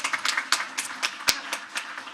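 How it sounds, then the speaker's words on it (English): A small group claps at a school district board meeting, giving a short round of applause with distinct, fairly close hand claps in a loose rhythm, no talk over it. "they deserve a round of applause"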